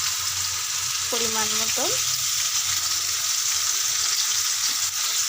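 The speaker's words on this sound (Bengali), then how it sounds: "ভালো করে লাল লাল করে ভেজে নেব আলুগুলো।" Potatoes fry in a pan with a steady, loud hiss that runs the whole time, and a brief short voice cuts in early.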